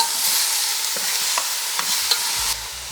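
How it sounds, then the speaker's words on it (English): Beef sizzles in a pot for Trini-style curry, with a spoon stirring through it in a few scraping strokes over a constant hiss, close and moderately loud, with no voices. "Give this a good stir."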